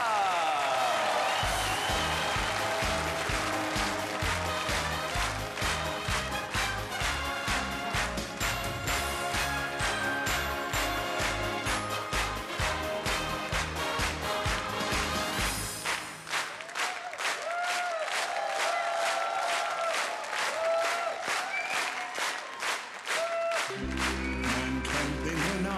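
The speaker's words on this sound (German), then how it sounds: "Und wir begrüßen ihn natürlich selbstverständlich mit Standing Ovations" A concert audience at a 2009 German folk music festival gives the singer a standing ovation. Sustained, loud applause mixes with a rhythmic band intro, and the clapping continues steadily as the music carries on.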